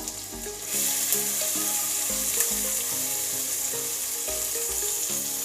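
Onion for rava appe hits hot oil and breaks into a loud, steady sizzle that holds throughout, over a low rhythmic hum in the background, with no one talking.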